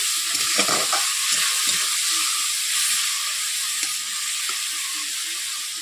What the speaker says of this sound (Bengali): অল্প করে জল দিয়ে দিচ্ছি।